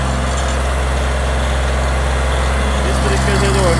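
A Sonalika tractor works under full load while pushing soil along a break-in track, its engine giving a loud, steady, continuous low drone close by with no pause.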